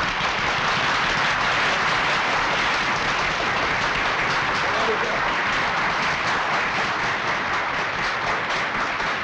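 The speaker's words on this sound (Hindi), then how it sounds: "जरा जोर से ताली बजाइए।" A large audience applauds loudly and without a break at a gathering where someone is being invited to the microphone, a dense, continuous roar of clapping that never lets up.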